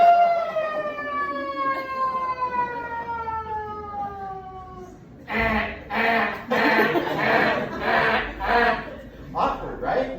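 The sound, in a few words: child imitating a siren with his voice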